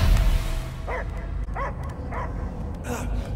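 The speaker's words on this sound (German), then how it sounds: "Ich höre nur Gebell." A dog, Cosmo from the Guardians of the Galaxy video game, gives several short barks and yips at a steady pace over a low rumbling game soundtrack.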